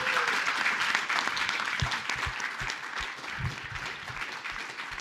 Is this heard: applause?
yes